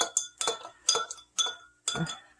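A teaspoon clinks against a glass while stirring apple cider vinegar into milk, five or six sharp, close metallic taps in an uneven rhythm.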